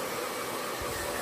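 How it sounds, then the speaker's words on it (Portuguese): A hair dryer blows on a freshly painted glass bottle, giving a steady, close, rushing hiss of air that holds constant throughout. "Secou no secador."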